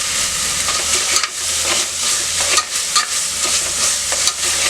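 Ginger garlic paste with turmeric and salt sizzles loudly in a pan, a constant frying hiss broken by repeated scraping stirs of a spoon.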